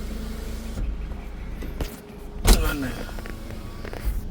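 A Suzuki Baleno Delta's power windows run in short motorised whirs, several separate strokes with gaps between them, heard close up inside the car. A brief thump comes midway.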